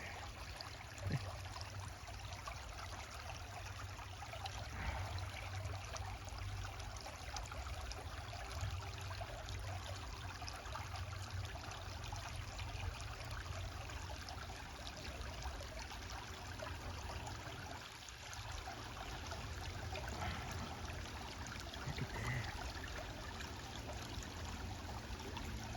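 Water in Tish Mill Creek flowing steadily along the Ice Age Trail, a faint, even trickling stream heard alone for the whole stretch.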